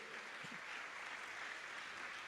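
A church congregation at a Shalom Ministry commissioning service applauds in steady, continuous clapping, a soft distant wash that stays even throughout.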